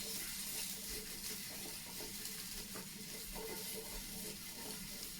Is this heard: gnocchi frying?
yes